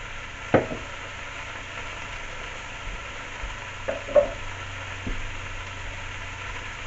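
Carrots, celery and onions cooking around a pot roast in a pot, a quiet continuous sizzle under a low hum, with scattered knocks and stirring clatters.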